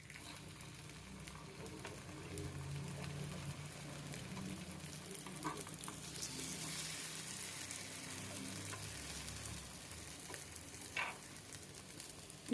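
Poha appam (aval appam) batter frying over a slow flame in a paniyaram pan, a soft, steady sizzle with faint crackles running the whole time, close by and fairly quiet, with no talk.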